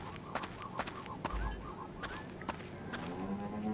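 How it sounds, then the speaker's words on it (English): Generic chicken-like clucks from a turkey creature in the video game Mohrta, several short repeated calls at moderate distance over a busy game soundscape with footsteps and ambient noise. "Very generic sounding chicken sounds coming from the obvious sort of turkey thing."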